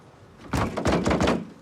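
Several heavy knocks and thumps land on a bathroom door in quick succession, loud and close, with a short pause after the first blow.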